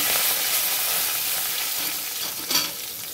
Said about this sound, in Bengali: ফোড়নে দিলাম 5 ফোড়ন, শুকনো লঙ্কা, তেজপাতা